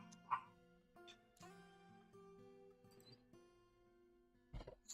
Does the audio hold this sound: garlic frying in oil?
no